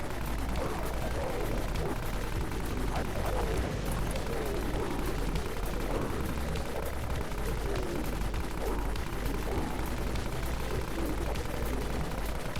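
Sustained automatic machine gun fire in the zombie shooter Dead Frontier, a dense, continuous rattle of rapid shots that runs the whole stretch at steady loudness with no break.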